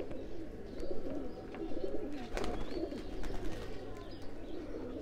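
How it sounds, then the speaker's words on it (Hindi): Kasuri pigeons coo softly and repeatedly amid a busy, rustling background, their low murmuring calls overlapping without pause. "कलसरे कबूतर हैं जी, बहुत शानदार इसमें"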